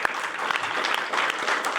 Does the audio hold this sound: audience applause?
yes